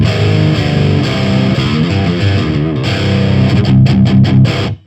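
Electric guitar through an old school death metal amp with the gain turned fully up on the green channel, loud crunchy pushed chords and riffing that ring out, then cut off abruptly at the end.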